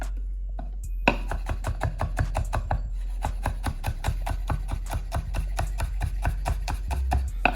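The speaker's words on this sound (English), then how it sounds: "I'll try to smash it with my knife first, and then I will chop them off" Kitchen knife chopping smashed garlic on a board, in rapid, regular close taps that go on steadily without talk.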